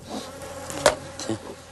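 Honeybees buzz around their hive, a steady droning hum with individual bees swelling louder as they pass close by the microphone.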